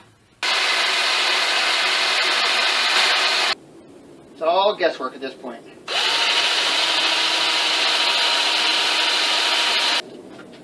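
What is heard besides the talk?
drilling holes in wood for a sandbox toy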